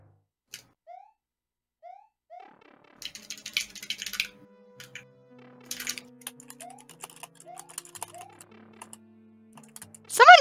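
Keyboard typing during a Super Mario All-Stars warpless race, bursts of quick key clicks under soft gliding game tones and faint background voices, with a louder sound at the end.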